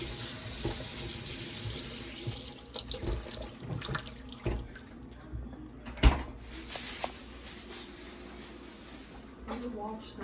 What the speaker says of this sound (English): Once it's washed, wash some of the chiles.